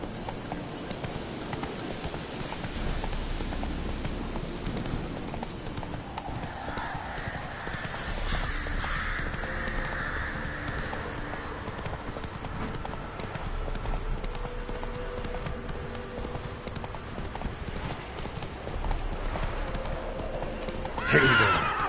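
Roach, the horse in the video game The Witcher 3, trots with a steady clip-clop of hooves throughout and lets out whinnying neighs along the way.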